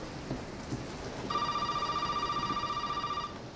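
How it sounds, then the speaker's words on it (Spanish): A telephone rings in the horror video game Resident Evil 7, a steady electronic trill that starts partway through and holds for about two seconds over a bed of rain-like noise. "¿Al teléfono? ¿Quién me llama?"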